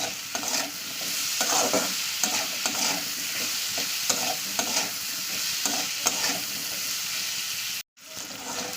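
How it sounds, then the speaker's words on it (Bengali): Potatoes seasoned with salt are stirred in hot oil in a frying pan, giving a continuous soft sizzle under repeated scraping strokes of the spoon, with one brief cut to silence near the end. "দিয়ে এবার ভালো করে তেলের সঙ্গে একটু মিশিয়ে নেবো পুরো এক মিনিট ধরে আমি এটা একটু নাড়াচাড়া করবো"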